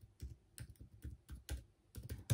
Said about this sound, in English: Let me type in my...